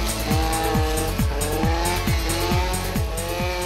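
A brush cutter with a 4-mix engine runs loudly and close, its buzzing harmonic drone rising and falling in a steady repeating pulse roughly twice a second.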